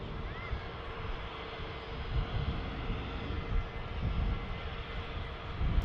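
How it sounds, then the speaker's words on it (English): Ryanair airliner at Manchester Airport rolling out for departure to Brussels Charleroi, a steady distant jet engine roar that swells slightly, with faint talk in the background. "Ryanair on the roll out to Brussels, Charleroi."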